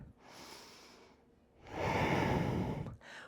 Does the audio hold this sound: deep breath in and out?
yes